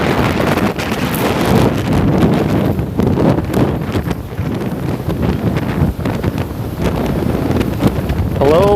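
Strong wind by the water in Toronto's Port Lands buffets the microphone, a loud, continuous roar with gusty surges and rustling, heard alone for the whole stretch.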